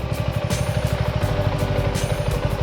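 A Suzuki V-Strom motorcycle engine runs with a steady, pulsing mid-pitched thrum and light clatter, close and continuous, with no talking over it.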